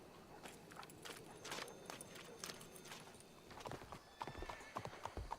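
In the Red Dead Redemption 2 video game, horse hooves clip-clop in an uneven walking rhythm, fairly near but quiet, with a whinny in the mix and a few sharper hoof strikes toward the end.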